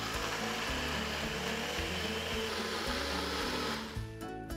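A kitchen blender grinds thandai paste with a loud, steady whirring roar that holds constant for about four seconds, then winds down and stops near the end.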